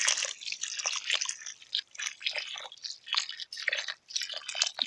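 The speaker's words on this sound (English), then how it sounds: "And then just water it in a little bit." Water trickles and patters irregularly onto soil in a pot, soft uneven splashing and dripping at close range with no voices, watering in newly planted Jerusalem artichokes.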